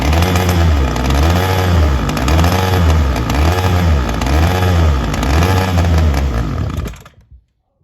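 A Ryobi SS30 string trimmer's small two-stroke engine runs loud and close on choke, its pitch rising and falling in a regular surging cycle about once per second, then cutting off abruptly into silence.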